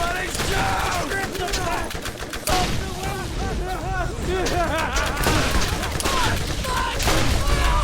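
Dense, continuous gunfire and rapid shots from the video game Borderlands, loud and unbroken for several seconds with chirping effects layered in, and voices talking over the fire.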